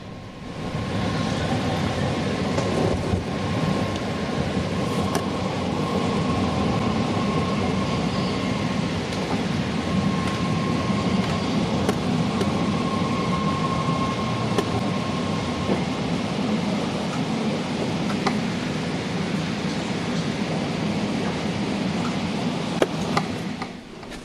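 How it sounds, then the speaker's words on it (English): A BART D car, number 3122, pulls out of MacArthur station heading north to Richmond, a steady close rumble of rolling wheels and motor hum that holds loud throughout with a thin tonal whine riding over it. "watch as D car number 3122 departs to continue north to Richmond"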